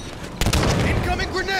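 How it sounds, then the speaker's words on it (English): A grenade explodes in the online video game Halo 5: Guardians, a loud boom followed by dense gunfire and blast noise, with in-game voices speaking over the combat. "Incoming grenade."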